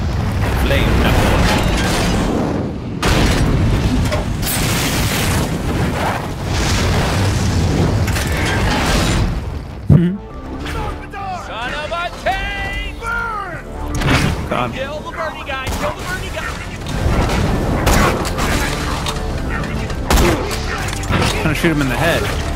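Gunfire and booming impacts in the shooter video game Borderlands: The Pre-Sequel, loud and repeated under a busy mix of game sounds, with voices from the game speaking over it.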